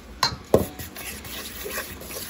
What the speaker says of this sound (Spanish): Yo lo voy a mezclar con el cuchillo.